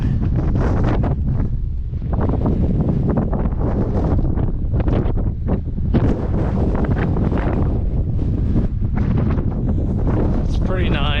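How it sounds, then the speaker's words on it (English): Loud, buffeting wind roars across the microphone in continuous gusts on the Tongariro Alpine Crossing hiking trail in New Zealand, with a voice faintly speaking underneath. "So it is quite windy in a few sections."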